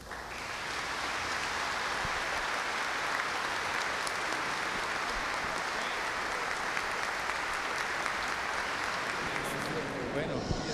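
A standing church congregation in the Diocese of San Cristóbal gives loud, sustained applause for a monsignor's 75th anniversary, a dense steady wash of clapping that fills the space from start to finish with no voices on top.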